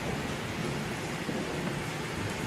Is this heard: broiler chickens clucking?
no